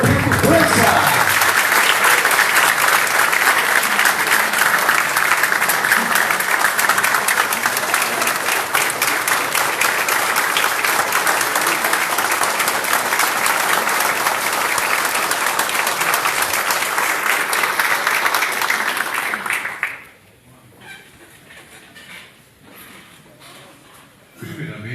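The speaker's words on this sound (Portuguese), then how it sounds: "Vamos receber uma saborosa salva de palmas o nosso biografado José Tadeu Brito França." An audience gives a long, loud round of sustained clapping at a biography tribute ceremony, which fades out after about twenty seconds into a quiet hall.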